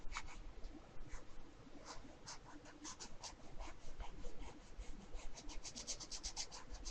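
A pen drawing one continuous line on paper gives soft scratchy rubbing strokes in an uneven rhythm, close and quiet, with no talking.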